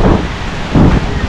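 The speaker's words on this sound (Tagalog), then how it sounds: "Grabe ng bagyo po." A typhoon storm with thunder, wind and rain strikes a flooding village at Pambuhan; a loud, continuous roar of rain and wind is broken by two deep rumbling surges of thunder, one at the start and a heavier one near the end.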